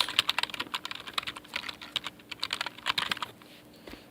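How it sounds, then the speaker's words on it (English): Rapid, uneven clicking of typing on a computer keyboard, close and crisp, coming in quick bursts with short pauses and no voices. "Type in your URL that you want to use."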